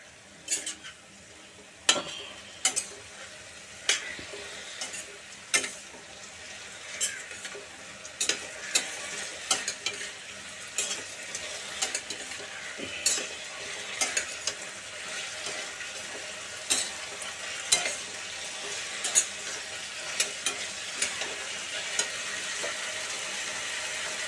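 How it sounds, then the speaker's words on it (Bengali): Boiled, overnight-soaked chickpeas are stirred and fried in a pan for a pumpkin curry, with a soft sizzle underneath and repeated sharp scraping clinks of a spatula against the pan at an irregular pace. "এবার সেই কাঁচা ছোলাটা এর মধ্যে দিয়ে দিলাম। এবার এটাকে কষাবো।"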